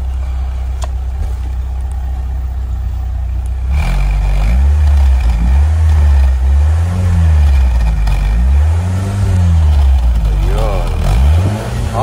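A vehicle engine idles steadily, then revs up and down in several repeated swells, loud and close, with a person talking briefly over it.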